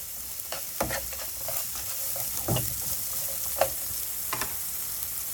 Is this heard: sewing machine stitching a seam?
no